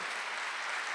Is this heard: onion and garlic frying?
no